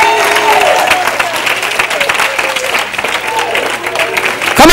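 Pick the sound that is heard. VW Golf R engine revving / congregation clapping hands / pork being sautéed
congregation clapping hands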